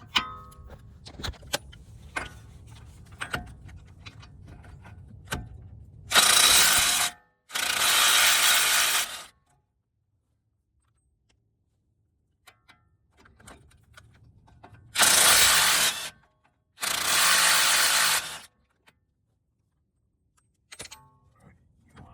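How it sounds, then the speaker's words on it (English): Work on the 21 mm axle nuts of a Nissan Rogue's front passenger side. Ratcheting clicks and metallic clunks from a breaker bar come first, then an impact wrench fires in four loud, sustained bursts of about a second or two, separated by silence. "I'm gonna use a breaker bar on this side with the 21 mil, and then I'm gonna use my impact on the other side with a 21 mil."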